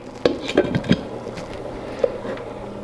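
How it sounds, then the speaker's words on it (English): A lid clatters onto a metal cooking pot in a few quick clanks close by, followed by a single lighter tap, in a quiet kitchen. "Close the lid. Close the lid"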